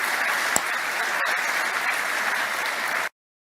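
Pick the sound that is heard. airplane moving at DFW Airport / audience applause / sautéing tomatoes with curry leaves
audience applause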